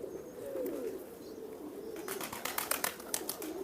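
Teddy pigeons coo in low, rolling murmurs close by, joined by rustling and flapping sounds toward the end.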